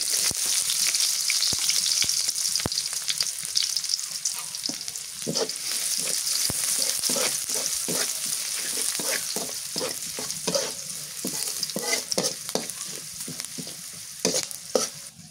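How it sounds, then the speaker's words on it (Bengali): Chopped onions sizzle steadily in hot oil while a spoon repeatedly scrapes and stirs the pan, sharp clicks punctuating the continuous frying hiss. "পেঁয়াজ ভাজা হয়ে গেছে, এবার রসুন বাটা দিয়ে দিই।"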